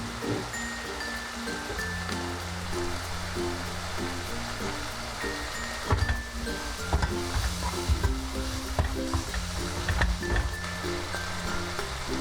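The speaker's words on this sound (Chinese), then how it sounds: "把调味汁拌匀炒香" Thai basil pork being stir-fried with seasoning sauce, with scallion greens and chilies added. A steady close sizzle runs throughout under repeated spatula scrapes and clacks, and a faint tonal hum sits underneath.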